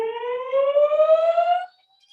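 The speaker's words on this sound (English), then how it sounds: "a fire alarm just went off outside" An outdoor fire alarm sounds a single loud rising electronic wail that lasts about a second and a half, then cuts off abruptly into silence.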